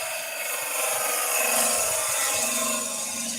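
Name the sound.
woodturning tool making first cut on wood on lathe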